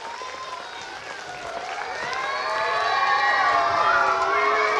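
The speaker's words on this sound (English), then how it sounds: "Clap your hands, children." Children clapping their hands at a school event, a scattered patter of small claps that builds toward the end beneath loud, high-pitched children's voices calling and shouting.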